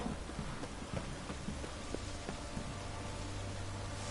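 Light rain drizzling in The Witcher 3, a steady soft hiss of falling drops with faint low rumbles underneath, continuous and without speech.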